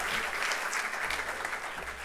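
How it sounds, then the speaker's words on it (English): Applause from the audience at a Sterling High School varsity awards ceremony, a short burst of steady crowd clapping filling the room, with faint murmuring beneath. "a big round of applause for Cami Rivadis and myself for hosting this one tonight"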